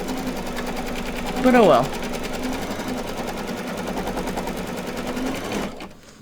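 An embroidery machine stitches the tack-down of an in-the-hoop patch with a steady, rapid mechanical clatter that runs nearly throughout and then stops. A person speaks briefly over it near the start.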